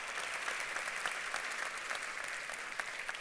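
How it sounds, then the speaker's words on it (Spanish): Audience applause for speaker Firo Vázquez at a Gastrotea 2015 talk: a steady, dense clapping from a full hall, even and sustained throughout with scattered sharper claps. "un fuerte aplauso para Firo Vázquez, por favor"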